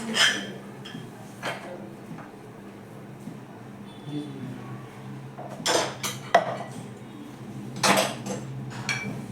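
Spiced potato masala for samosas being scraped out of a pan onto a plate, a few scattered metallic scrapes and clinks of a spoon against cookware, close, with quieter gaps between strokes.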